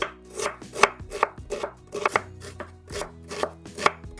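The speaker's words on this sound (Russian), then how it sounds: "Средними кубиками режу лук." Sharp knife strikes on a cutting board in a quick, uneven rhythm, about a dozen close chops of onion with no talking.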